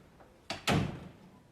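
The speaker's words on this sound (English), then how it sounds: "Close the door." A door swings shut in an office: a brief thump of contact, then a louder latching slam that rings out and fades, followed by a faint knock, with no speech.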